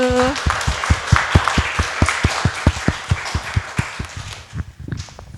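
A live audience at a Family Constellation talk breaks into applause, with dense, steady clapping that carries on throughout and thins out slightly toward the end, after a brief voiced tone at the start.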